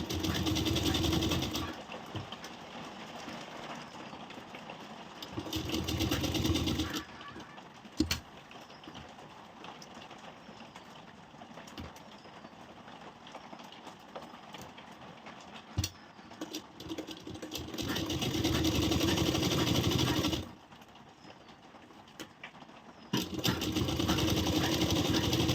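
A sewing machine top-stitches along a blouse neckline in several steady whirring bursts, with quieter handling and light fabric sounds between the runs.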